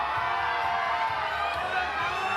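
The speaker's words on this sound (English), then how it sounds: "The crowd are getting behind her" Arena crowd at a powerlifting team championship cheering and shouting encouragement for a woman lifter before her deadlift, a steady loud roar of voices and whoops.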